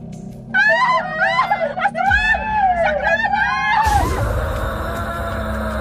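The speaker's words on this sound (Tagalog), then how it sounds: "Hanggang sa marinig namin ang malakas na sigaw ng kasambahay." A housemaid lets out loud, shrill screams, rising and wavering over several seconds, followed by a sudden burst of harsh noise.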